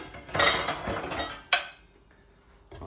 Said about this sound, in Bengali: আঁশটাকে এইভাবে তুলতে হবে